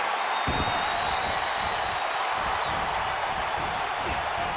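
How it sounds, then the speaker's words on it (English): Steady roar of a virtual arena crowd cheering during a WWE 2K19 wrestling match, a dense wash of noise running loud and unbroken throughout. "Did you hear that crowd?"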